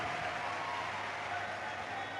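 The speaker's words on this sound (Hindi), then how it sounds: "एक बार जोरदार ताली बजाकर साधुवाद दीजिए।" Audience clapping at a Shiv Mahapuran religious discourse, a steady dense wash of applause from a large gathering, fairly faint and even throughout with possible voices mixed in.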